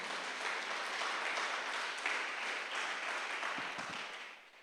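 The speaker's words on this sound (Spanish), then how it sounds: "Dale una ofrenda de palmas a nuestro gran Rey de Reyes." A church congregation applauds during a service, steady, full clapping that fills the room from start to finish and thins slightly at the end.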